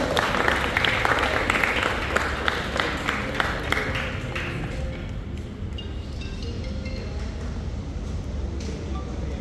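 Sustained applause from a group at a Christmas cake launch event, loud at first and then thinning to lighter, scattered clapping toward the end.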